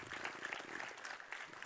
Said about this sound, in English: Please give a warm applause once again.